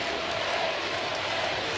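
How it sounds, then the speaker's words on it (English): A football stadium crowd at an NCAA college game between Missouri and Arkansas State roars steadily, with a broad, continuous wash of voices that suggests massed chanting, heard from a distance without a clear beat. "You hear the crowd chanting, J.D., J.D."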